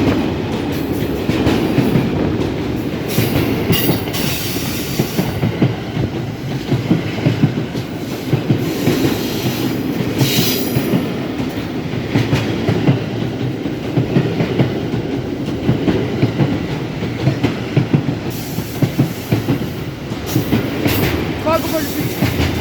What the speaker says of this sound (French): Il y a 2 wagons poches en même temps.